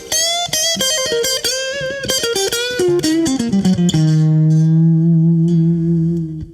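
Stratocaster front single-coil pickup with a little overdrive, playing a fast descending lick of picked notes that ends on a long, sustained held note, close and loud.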